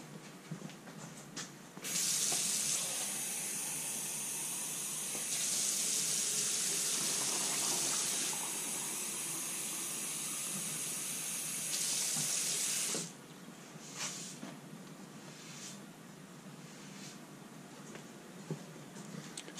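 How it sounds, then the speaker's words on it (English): Tap water runs steadily for about eleven seconds as a fine silicon carbide sharpening plate is rinsed under it, a loud, continuous hissing splash that then stops abruptly, leaving quiet room tone. "So let me rinse off the plate"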